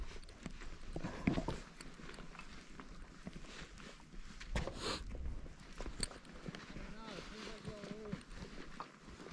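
Camels race near the Meroë pyramids in Sudan, their soft, irregular footfalls sounding close beneath continuous talking and outdoor noise.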